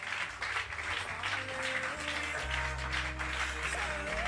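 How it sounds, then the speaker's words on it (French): Church congregation applauding during a worship service, steady clapping over sustained low organ or keyboard tones and music. "Continue à applaudir pour guérison ça."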